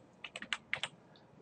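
Quick, light keystrokes on a computer keyboard type out a short file name, about six close clicks in a brief burst in a quiet room.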